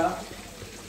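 Cumin seeds dropped into hot oil for a fish curry, a brief burst of crackling at the start that quickly settles into a soft, steady sizzle close by.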